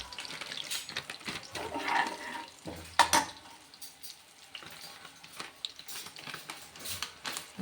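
Water runs and splashes as dried fenugreek leaves (kasuri methi) are rinsed for a white pulav, a steady wet rushing with a few sharper splashes partway through.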